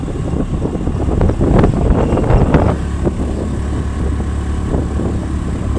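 Outdoor wind blowing steadily across the microphone, a continuous low rumbling buffet that swells in stronger gusts through the first few seconds and then settles, with no voices.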